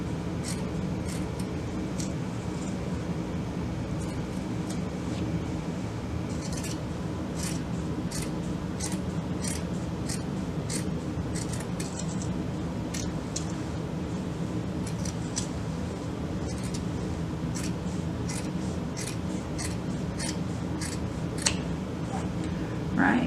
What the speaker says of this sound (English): let's take our flap, and you can trim some of this down if you like